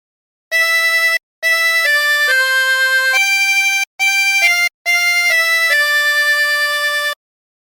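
A chromatic harmonica plays a short melody from Abide with Me, sustained reedy notes separated by brief breaths and steady in loudness, with no other sound.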